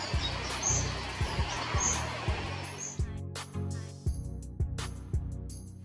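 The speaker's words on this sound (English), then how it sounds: "a young cuckoo. He sat upon a branch for a while, chirping away" A young cuckoo chirping on a tree branch in the early morning: repeated short high calls over a busy background of other birdsong and steady rhythmic low sounds.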